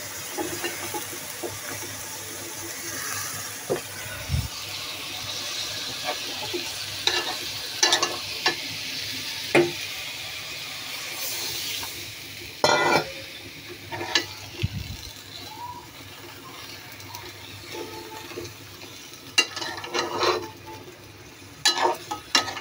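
Mixed vegetables (broad beans, cauliflower, tomato and radish) stir-frying in a pan: a steady sizzle runs throughout, broken by frequent clacks and scrapes of a spatula, some sharp and close.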